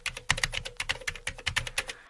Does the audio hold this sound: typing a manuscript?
yes